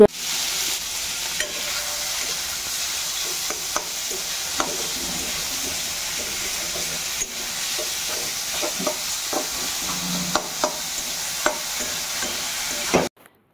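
Chicken momo filling sizzling and being stirred in a frying pan in a home kitchen, with a steady loud frying hiss and scattered scraping clicks of a spatula throughout, ending abruptly.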